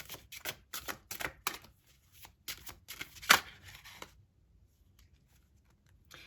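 Tarot oracle cards are shuffled up close in quick, papery riffling bursts, with one sharp snap partway through before the sound fades to quiet.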